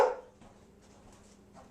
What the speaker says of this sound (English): Please pay no attention to the bad dogs who are barking in the background